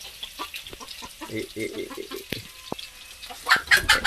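A hen clucks in short, close bursts at home, the calls rising and falling over a few seconds with a louder flurry near the end, among household background noise.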